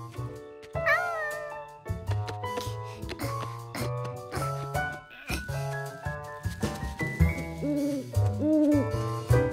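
A nocturnal bird calls at night on a farm in a Curious George cartoon, giving repeated hooting, wavering cries over a busy, tuneful music score.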